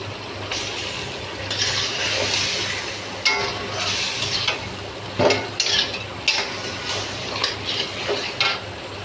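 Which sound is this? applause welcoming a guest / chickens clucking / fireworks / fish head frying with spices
fish head frying with spices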